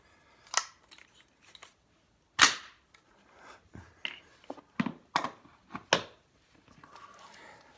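Sharp, quiet clacks and pops in irregular bursts, like a suppressed automatic rifle's mechanical action cycling, with faint rattles between shots.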